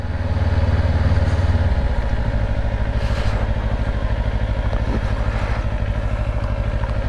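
A 2024 Kawasaki Ninja 500 KRS SE ABS motorcycle rides steadily through the evening, its engine a loud, continuous low throb with a pulsing rhythm that shifts slightly as it pulls.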